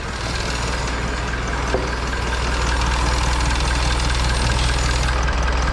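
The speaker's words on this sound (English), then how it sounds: "after letting it idle for like a couple of minutes, it's smoothed out quite a bit now." A Honda CR-V's 2.2 i-DTEC diesel engine, freshly swapped in, idles at a steady, even beat with a constant low rumble and faint mechanical clatter throughout.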